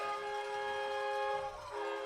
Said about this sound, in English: the air horns, train horns, traffic horns are just lit up here tonight in the student section